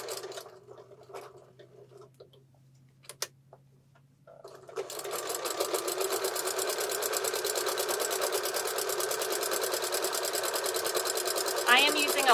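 A sewing machine fitted with a walking foot stitches a fabric baby taggie blanket, starting after a few quiet clicks and then running in a steady, fast, close hum that goes on without a break.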